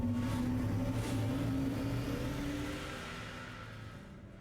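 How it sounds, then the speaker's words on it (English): A spacecraft engine runs during a video game salvage mission, giving a steady, loud, low droning hum with a tonal whine on top that slowly fades a little toward the end. "Turn the engine back on."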